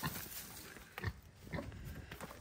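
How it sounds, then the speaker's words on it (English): Piglets in a pen give soft grunts and a few sharp squeals, scattered and fairly faint against steady background noise. "Hope they don't squeal too much when I finally get them in and close the door"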